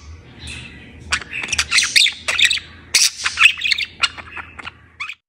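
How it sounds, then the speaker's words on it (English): A pet budgie chatters in a rapid, rambling stream of squawks, chirps and warbles, close and fairly loud, broken by short pauses, with no one talking. "Chattering sounds like mumbling or rambling,"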